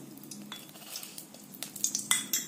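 Oil heats in a pan for tempering rasam, giving a soft, thin crackle with sharper pops and spatters growing toward the end, close and fairly quiet, without talk.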